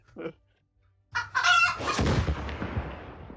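A chicken sound effect: one short cluck, a brief pause, then a loud rooster crow that trails off into a noisy fading tail, with no talk.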